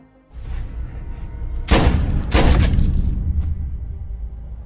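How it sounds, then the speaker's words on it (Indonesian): Gunfire from the action film Colombiana inside a prison cell block, with two loud, close broadband blasts about a second apart ringing over a low rumbling background. "Karena suara tembakan yang terdengar"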